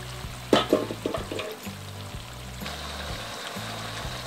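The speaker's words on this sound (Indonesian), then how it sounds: "Setelah cabenya setengah matang, kita masukkan kaldu daging ke dalam cabai." Meat broth poured into half-cooked chili frying in a pan, a burst of liquid splashing and sizzling up close that settles into a steady bubbling fry with a low rhythmic hum beneath.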